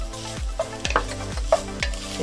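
Garlic sizzles with onion in a pan as a spoon stirs it, a steady frying hiss broken by several rhythmic scraping strokes against the pan, close and clear with no talking.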